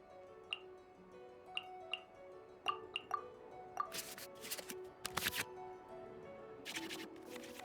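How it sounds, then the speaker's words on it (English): Digital cards shuffling back into the draw pile in the Genius Invokation TCG card game: a series of light ticking card flicks and clicks, followed by a few louder bursts of swishing shuffle noise, faint over soft background music. "we can select any number of cards in our hand to shuffle back into the draw pile"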